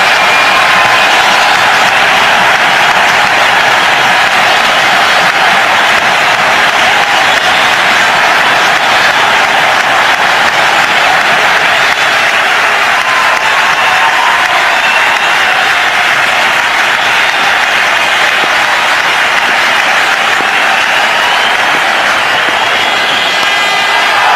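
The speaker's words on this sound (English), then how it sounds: "Tremendous ovation here from the crowd" A cricket stadium crowd at a one-day international gives a long, loud ovation for a batsman, with steady applause and cheering that form a dense, unbroken roar throughout.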